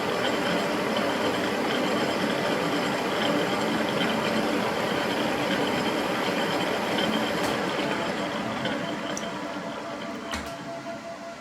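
A Victor lathe running in high gear, a steady loud mechanical whir and rattle that holds for the whole stretch, easing slightly near the end, with no talk.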